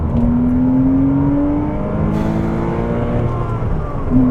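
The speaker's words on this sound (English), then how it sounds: "The engine noise at any speed, but especially wide open throttle in second gear," A Porsche Cayman 987 engine drones steadily and loudly at wide open throttle in second gear, its pitch climbing as it revs hard above 4,000 RPM, with a whirring tone running throughout.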